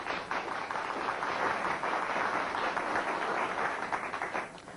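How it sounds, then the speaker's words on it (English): A studio audience applauds a talk-show guest, steady and fairly loud clapping that carries on for several seconds without a break. "Let's give him a big round of applause"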